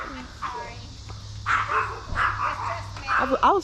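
A dog gives several short, rough barks and yips in a parking lot while people talk nearby, with a steady low rumble underneath.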